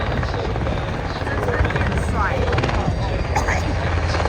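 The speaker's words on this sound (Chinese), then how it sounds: "这是另一种澳洲海军用于反潜任务的机型，叫做 MH-60海鹰直升机" An MH-60 Seahawk naval anti-submarine helicopter at the Avalon Airshow produces a steady, loud rotor and engine roar throughout, with a crowd and faint voices in the background.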